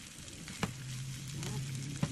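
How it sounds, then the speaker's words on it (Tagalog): Zucchini drops into hot oil with sautéed onion, garlic and shallots and sizzles softly, a steady quiet hiss broken by two light clicks of a utensil against the pan. "Ilagay na natin ang ating zucchini."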